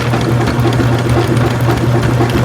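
An Albott 75 ft auto-feed electric drain snake winds its 3/8 inch cable back in, a steady loud motor hum with a low rhythmic whir and no break.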